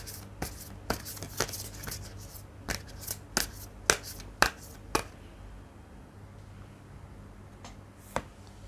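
Tarot cards being shuffled and handled, a run of crisp papery flicks and slaps in an irregular rhythm over about five seconds, then sparse single taps against a quiet room hum, close and moderately soft.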